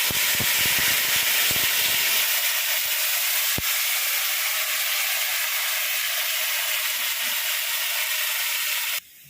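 Spice paste dropped into hot oil left from frying pointed gourd, giving a loud, steady broadband sizzle and hiss that holds throughout, with a few clatters at the start and a sharp knock midway, then cuts off abruptly near the end.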